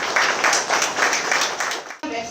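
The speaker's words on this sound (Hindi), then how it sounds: "तालियों से इसका स्वागत करें" Audience applause at an official ceremony inaugurating the Andaman and Nicobar Islands tourism website: loud, rapid clapping for about two seconds that cuts off abruptly, followed by a different sound.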